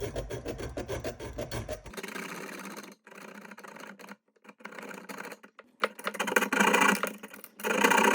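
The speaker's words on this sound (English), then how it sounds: "I use a hacksaw blade to remove the segment" A hacksaw blade cutting a segment of copper pipe during a well valve repair, close rhythmic rasping strokes in short bursts separated by pauses, no talking.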